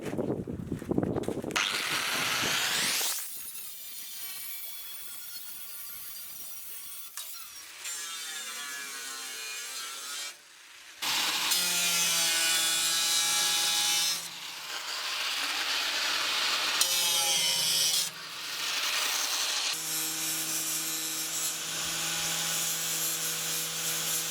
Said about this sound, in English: No, I'll do a 5-inch grinder.